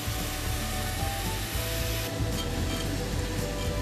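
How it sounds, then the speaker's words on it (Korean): A coffee roaster machine churns roasting coffee beans, giving a dense, steady rushing hiss like sizzling, loud and continuous throughout, with no voices. "자동 연필깎이를 크게 키워놓은 것처럼 보이는 이 기계 이름은 로스터."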